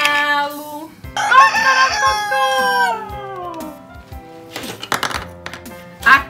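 A rooster at a zoo crows loudly and close, a long drawn-out call with falling pitch, followed by shorter squawks and clucking.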